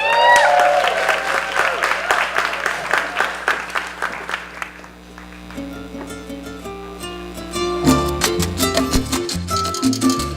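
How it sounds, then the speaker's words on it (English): At an awards ceremony, an audience breaks into loud applause for a singer, a dense rush of claps that fades by midway before music begins and builds toward a song. "Let's give her a round of applause."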